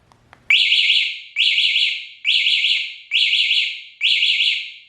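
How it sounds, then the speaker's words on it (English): Five loud electronic alarm blasts from a motorcycle alarm, triggered by its keyless remote's horn button, repeat at a steady rhythm, each a shrill, warbling tone that cuts off sharply, after a faint click at the start. "just go ahead and press the horn thing, and it's gonna make an audible sound"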